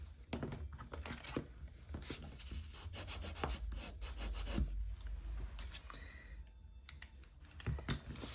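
Adhesive craft paper is burnished down by hand, giving quiet, close rubbing and scraping strokes in short irregular bursts with soft taps between them.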